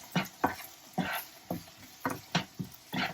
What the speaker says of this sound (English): Just moving some of those potatoes over to the side